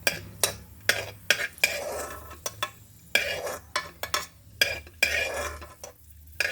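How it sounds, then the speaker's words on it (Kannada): Raisins frying in ghee in a pan, with repeated sharp stirring and scraping strokes of a utensil against the metal and a low sizzle underneath, close and moderately loud. "ತುಪ್ಪದಲ್ಲಿ ಬಾಡಿಸಿ ಇದನ್ನು ತೆಗೆದಿಟ್ಕೊಂಬಿಡೋಣ"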